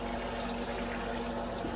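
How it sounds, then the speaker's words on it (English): Water running steadily while a cast iron pan is rinsed in a kitchen sink, a continuous close rushing splash with a faint underlying hum. "as I rinse this, the water gets clearer with each rinse"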